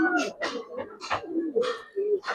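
Gribaz pigeons coo close by in a run of repeated throaty coos with short pauses between them, rising and falling in bursts.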